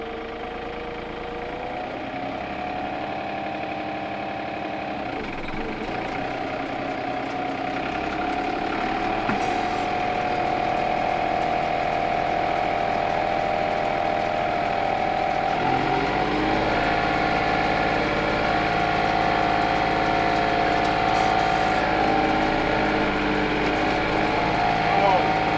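Small engine of a hay-cutting machine running at a steady idle with a whining mechanical tone, shifting pitch slightly a few times as it revs, continuous and fairly close.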